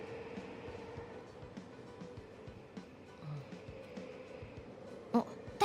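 A subway train rolls along in the game UsoNatsu, a low, quiet rumble with faint rhythmic clacks and a couple of sharper knocks near the end.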